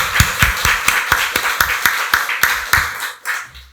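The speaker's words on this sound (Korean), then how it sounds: "박수로 하나님께 영광 돌리겠습니다." Church congregation at a Sunday worship service clapping in unison, a dozen sharp, evenly spaced claps in a steady rhythm, loud and close, trailing off at the end.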